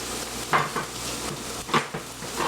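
Mushrooms pre-cooking in a pan for a spinach spaghetti casserole, giving a steady low sizzle with a few clinks and scrapes of stirring, close and fairly quiet, with no talking.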